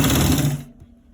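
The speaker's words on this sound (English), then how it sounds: "Stitching a V-neck design. Stitching it all around just like we showed you guys." A sewing machine stitching around a V-neck on a garment runs in a fast, steady whir for about half a second, then stops, leaving a quiet low hum.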